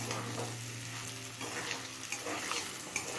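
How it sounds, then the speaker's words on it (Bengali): Bitter gourd and potatoes sizzle and crackle softly in fish oil over a medium flame, a faint, steady frying hiss with scattered pops. "এবার মিডিয়াম ফ্লেমে উচ্ছে আলুটা খুব ভালোভাবে সিদ্ধ হয়ে আসা পর্যন্ত রান্না করে নেব।"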